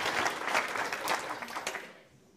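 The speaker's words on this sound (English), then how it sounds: "Can I get a round of applause for that?" An audience claps loudly at a health and weight-loss seminar, a dense burst of applause that fades away toward the end.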